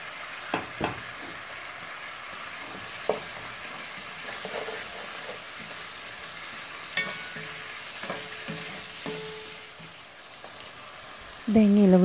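Devilled chicken pieces cook in a pan with ginger and garlic, giving a low steady sizzle broken by a few sharp scraping clicks of stirring, and a louder scrape near the end.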